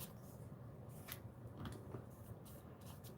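Scissors cut a piece of scrap craft material in half. A few faint, quick snips sit over a low background hum, close but quiet, and no one speaks.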